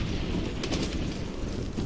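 A loud, rumbling explosion in the video game Medal of Honor fills the whole moment, dense and noisy with a brief crackling burst near the middle.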